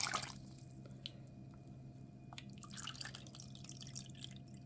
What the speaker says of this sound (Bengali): দিয়ে দেব দুই কাপ পানি কুসুম গরমের চেয়েও কম হালকা গরম